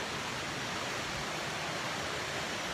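Paadjao Falls, a waterfall swollen and muddy after rain, pours in a steady, dense broadband roar, close and unbroken from start to finish with no voices over it.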